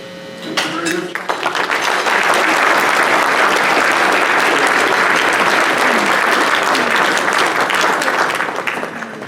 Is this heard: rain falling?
no